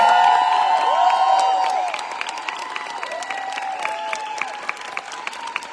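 Applause from a fan meet audience in Barcelona, loud dense clapping and cheering that fades to a softer patter, with sustained musical tones and a few whoops mixed in.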